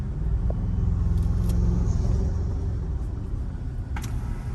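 A turbocharged Toyota Tacoma Trail Hunter pickup engine rumbles low and steady from inside the cab, building slightly as it accelerates, with road noise beneath.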